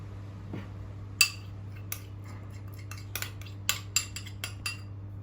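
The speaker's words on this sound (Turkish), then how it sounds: "Bunu da bir güzel karıştırıyoruz." A spoon stirring oil and grape molasses in a bowl for cookie dough, heard as a series of light metallic clinks and taps against the bowl, close and fairly quiet over a low steady hum, with no talking.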